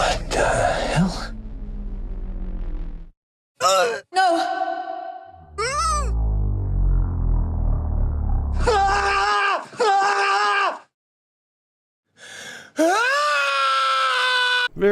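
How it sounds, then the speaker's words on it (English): Tom Cruise lets out a series of anguished screams, groans and gasping wails from The Mummy (2017) trailer, loud bursts separated by short silences and backed by dramatic score. "Tom Cruise scream."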